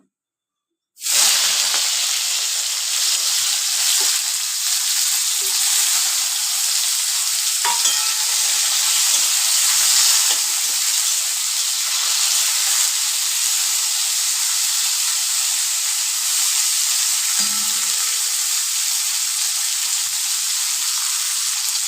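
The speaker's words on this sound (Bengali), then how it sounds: "ওই একই তেলে করলাগুলো ফ্রাই করে নেব।" Bitter gourd slices fry in hot oil with a loud, steady sizzle and hiss that begins abruptly after a moment of silence and holds evenly throughout, with no talking.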